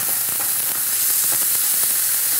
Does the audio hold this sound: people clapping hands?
no